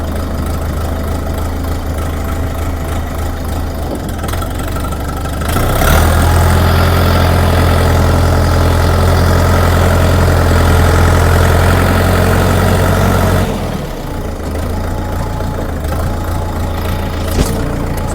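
Eney 404 mini tractor engine running close by. It idles steadily, then revs louder for several seconds mid-clip as gears are shifted and the tractor is tested, before dropping back to a steady idle with no talk.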